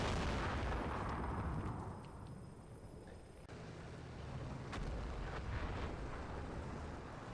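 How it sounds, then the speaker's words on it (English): Artillery fire in the Combat Mission Cold War video game comes as a continuous, heavy low rumble of distant barrages with occasional sharper impacts, steady throughout. "the Americans are starting to bring in their own artillery"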